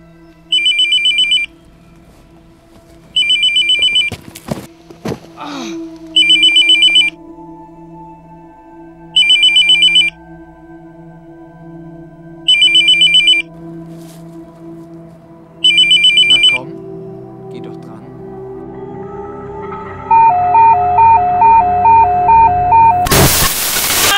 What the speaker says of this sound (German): Das Handy.